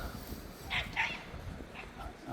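A dog on a riverside walk gives two short, high yips close together, with soft whimpering around them over quiet outdoor background.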